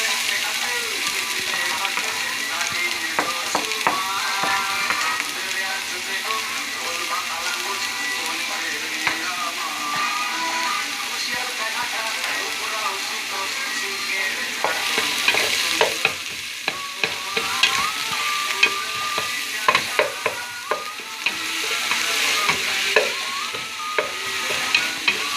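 Finely chopped onions sizzle and crackle in hot oil while being stirred, the spoon scraping and tapping the pan repeatedly; the frying grows busier and louder toward the end, with no talking.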